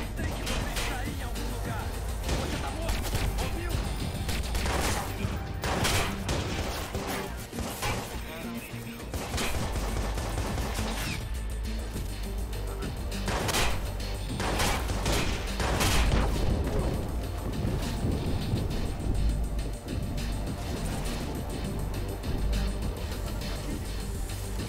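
Bursts of gunfire from the Watch Dogs video game, sharp shots in irregular clusters amid game ambience, with someone talking over parts of it.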